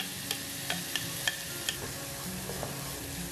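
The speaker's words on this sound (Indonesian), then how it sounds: "Kita tumis hingga wangi." Ground spice paste sautés in a pan with no added oil, a soft continuous sizzle punctuated by light, regular taps and scrapes of a spatula stirring, with no voices.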